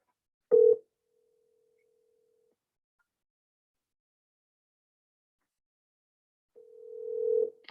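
Telephone ringback tone during an unanswered call, two faint steady tones separated by a long silent gap, the second swelling louder at the end.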